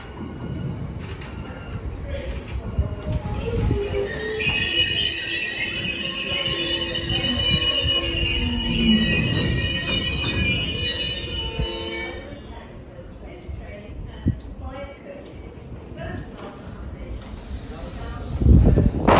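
Train pulling into Oxford station with high metallic wheel squeal over rumble and hiss, loud and sustained before easing off, then a thump near the end.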